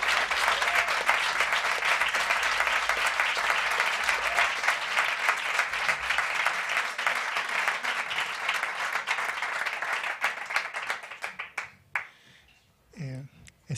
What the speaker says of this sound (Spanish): Vamos a darle un fuerte aplauso, vamos a recibirlo con todo el calor.